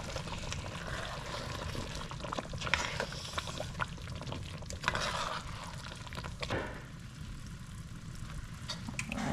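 Cornmeal is stirred continuously in a pot over a low flame, a soft, close scraping and thick bubbling texture with faint liquid sounds throughout, steady and quiet with no speech.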